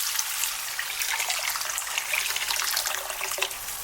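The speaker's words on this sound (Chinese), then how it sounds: "再往里面加入多一点的清水。" Clean water pours into a pan of fried minced meat, a continuous splashing, trickling stream close by, with a brief sizzle near the end.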